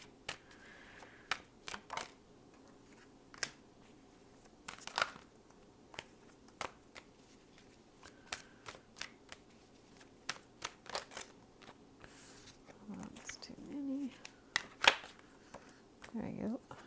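Tarot cards being shuffled and handled on a table: scattered soft riffles, taps and flicks near the mic, with brief quiet talk near the end.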